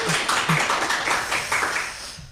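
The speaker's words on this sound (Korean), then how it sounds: "박수" A live lecture audience claps for a guest speaker in an indoor hall, a dense steady patter of many hands sustained for a couple of seconds with no voices over it.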